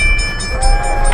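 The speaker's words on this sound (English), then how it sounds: "We're stuck on the railroad tracks, and this is the train." A train rolls past a railroad crossing at a Christmas light display in Sevierville, Tennessee, loud and close, with a sustained horn tone over rumbling wheels.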